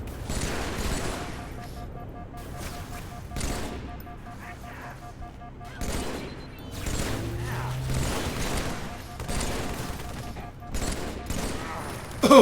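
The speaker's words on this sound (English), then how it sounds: "you know we don't use assault rifles out here" Bursts of assault rifle fire in the game Halo 3 come in repeated short volleys with quieter gaps between them, loud and close amid scattered explosions and battlefield noise.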